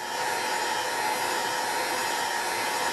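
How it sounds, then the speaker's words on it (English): Heat gun on high heating a rowing oar shaft near the handle, a steady, loud, close blowing whir with an even airy hiss that holds unchanged throughout, no voices. "And then you heat it with a heat gun, an inch or two up the shaft"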